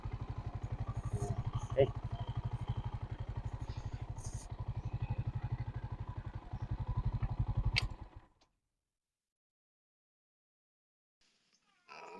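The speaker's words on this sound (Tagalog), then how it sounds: "hindi muna natin patayin itong makina. I-cool down muna natin" A motorcycle engine idles with a steady low rumble, close by, then shuts off, leaving near silence.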